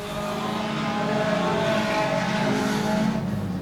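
Junior sedan race cars run down the main straight of a circuit, their engines giving a steady, loud, droning whine that holds level throughout with no break.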